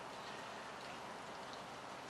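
Steady rain falls outside a house, heard from a front porch as a soft, even hiss of drops that carries on without a break, faint and alone.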